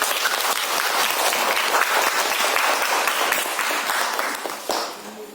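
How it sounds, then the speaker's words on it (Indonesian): A class of students claps after a good answer in an Islamic faith lesson, dense continuous applause close by that thins out toward the end. "Tepuk tangan dulu"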